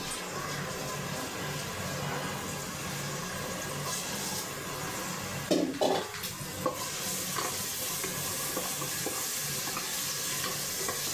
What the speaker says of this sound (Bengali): কহিটা একটু রসুন আর পেঁয়াজ দিয়ে নিয়েছি বাগার দেওয়ার জন্য।